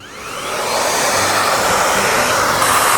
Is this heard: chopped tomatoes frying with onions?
no